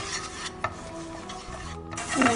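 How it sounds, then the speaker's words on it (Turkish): Flour stirred and toasted in melted butter for a béchamel sauce, a steady scraping and rubbing of a spoon in the pan with soft sizzle, close and continuous. "Tereyağın üzerine unu ekledik. Rengi dönene kadar kavuruyoruz"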